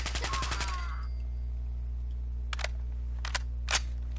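Service rifle fire in Fallout 4: a rapid burst of shots at the start, then three separate single shots spaced apart over a steady low hum.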